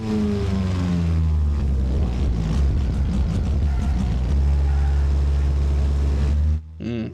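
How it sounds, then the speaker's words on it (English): A car engine drones low and loud on a test track, bogging near the bottom of its rev range through a corner, a steady heavy rumble with some speech mixed in before it cuts off abruptly. "that sweet, sweet engine note just bouncing off the lower limit of how many revs it can pull"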